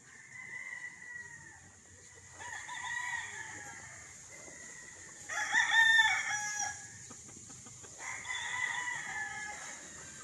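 Roosters on a Philippine farm crowing in several separate rounds, one louder and nearer call in the middle, over a quiet rural background with no talking.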